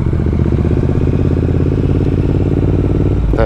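Triumph Thruxton RS motorcycles idle close by, a loud, steady, throbbing engine rumble that holds even throughout, with a brief rising rev at the very end.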